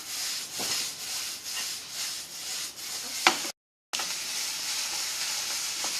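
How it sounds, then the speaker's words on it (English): Onions and chili pepper sizzle steadily in a pan while being stirred, a continuous crackling hiss with a few sharper scrape accents and a brief silent gap partway through. "half the onions, and half of my chili pepper, and I'm just going to stir it together inside my pan"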